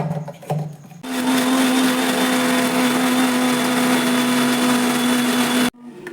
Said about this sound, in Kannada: ಇವಾಗ ಇದನ್ನು ಗ್ರೈಂಡ್ ಮಾಡ್ಕೊತೀನಿ.